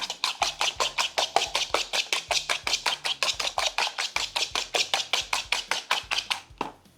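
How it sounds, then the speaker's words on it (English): Three eggs get whisked in a bowl, a fast, even clatter of about five strokes per second that keeps up for several seconds and stops abruptly near the end, with no voices. "we're gonna go ahead and get our eggs and we're gonna get them beaten up real quick"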